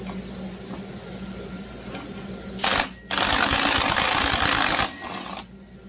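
Rapid mechanical ratcheting and clattering as a Husqvarna 562 XP chainsaw clutch is worked loose with a ratchet and homemade socket. Two dense bursts stand out against a quiet workshop background, the second one longer and sustained.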